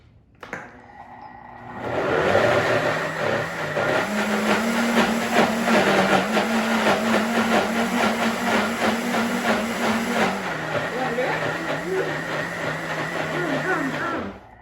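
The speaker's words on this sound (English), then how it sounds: "Can you blend it again?" A blender whirs steadily through waffle batter with vanilla and peanut butter, starting after a click and running loud and continuous for about twelve seconds before cutting off.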